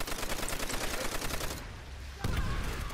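Rapid automatic gunfire in the World at War video game, a loud, dense burst of shots that pauses briefly and then resumes.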